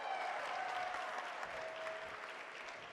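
An audience at a cosplay contest grand championship cheers and applauds steadily for the prize sword, a dense wash of clapping and shouts that stays loud throughout and eases only slightly at the end.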